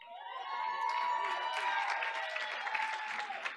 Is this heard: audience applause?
yes